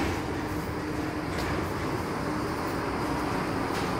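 An ED4M REX regional express electric train at Pushkino station, a steady rumbling roar of wheels and motors at moderate distance, continuous and even throughout.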